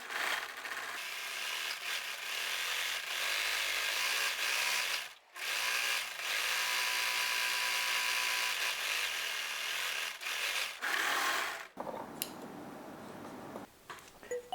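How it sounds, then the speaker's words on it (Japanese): An overlock serger runs around the edge of an armhole facing on a high-neck vest, giving a loud, steady mechanical whirr in long runs, with one brief stop midway and a quieter, irregular tail at the end. "袖ぐり見返しの周りにロックミシンをかけます。"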